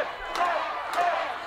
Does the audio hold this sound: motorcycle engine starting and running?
no